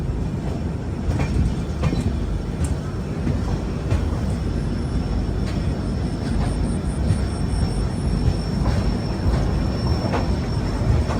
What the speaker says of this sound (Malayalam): കാസിപ്പേട്ട് ജംഗ്ഷൻ റെയിൽവേ സ്റ്റേഷനിലേക്ക് ഇതാ നമ്മുടെ ട്രെയിൻ എത്തിക്കൊണ്ടിരിക്കുകയാണ്